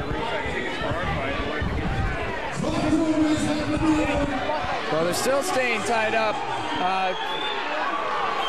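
Ringside crowd at a fight event murmuring and rumbling with restless disapproval while the fighters stall tied up, a steady dense babble throughout with a commentator talking over it.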